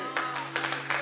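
Audience applause in a church, a short burst of clapping that swells and fades over about a second, moderately loud and close with a steady low hum beneath.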